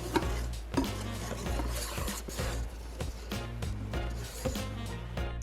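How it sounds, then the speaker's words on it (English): Glossy meringue whisked into pancake batter in a bowl for Japanese soufflé pancakes, rapid rhythmic scraping and tapping of the whisk, steady and close under a low background hum. "Now we want to add that glossy meringue to the first mixture in 3 equal parts and whisk it in."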